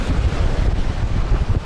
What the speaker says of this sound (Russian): чтобы вы понимали, какой сильный ветер сегодня